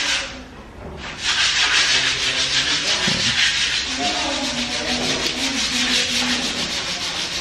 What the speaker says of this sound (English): And we got some skim coating going on,